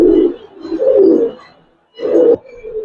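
A large silver jabra giribaz pigeon coos up close, low throaty rolling calls in three loud bursts separated by short pauses.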